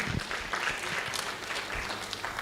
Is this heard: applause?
yes